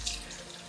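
Tap water runs from a faucet, rinsing hot, freshly dyed yarn in a sink: a continuous close splashing rush with no speech.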